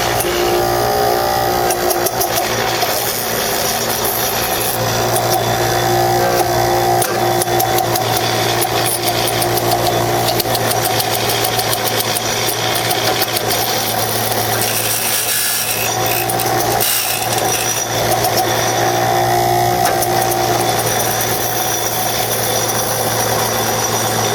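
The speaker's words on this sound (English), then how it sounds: "grind them down on this bench grinder" A bench grinder grinds down Arctic Cat 300 ATV CV axle parts, a loud, steady, continuous motor whine with abrasive grinding running the whole time, without talk.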